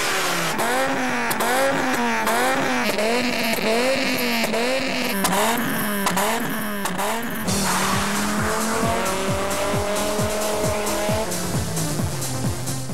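A modified Volvo 850 Turbo with a five-cylinder engine tuned to 190 horsepower drives hard, revving in repeated rising and falling surges before loud, prolonged tire squeals take over, close and loud throughout.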